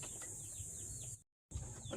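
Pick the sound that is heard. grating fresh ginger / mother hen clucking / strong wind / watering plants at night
mother hen clucking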